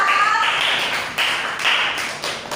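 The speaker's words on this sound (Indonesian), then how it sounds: "ayo tepuk tangan dulu buat kelompok 4." A classroom of students gives group 4 a round of applause, sharp close clapping in a few uneven bursts with no talking.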